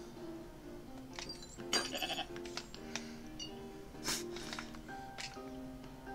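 A goat bleating in the video game I am Bread, several short wavering bleats spread across the clip over game sounds and music, moderately loud.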